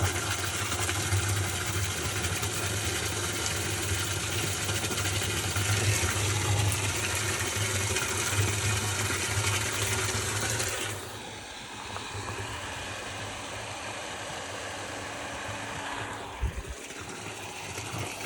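A pump on a newly drilled 24 m Abyssinian well hums steadily while discharging flush water, a constant mid-pitched drone that drops in level partway through and carries on more quietly with a brief knock near the end.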